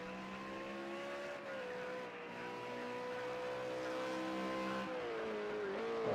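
Race car in the V8 Supercars Bathurst Challenge video game at Mount Panorama, engine droning steadily at high revs with pitch sagging and rising as the tires slide through a drift, loud and continuous without talk.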